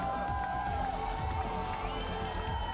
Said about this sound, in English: an incredible hometown crowd here, on their feet for a 4-0 Space Station Grand Finals victory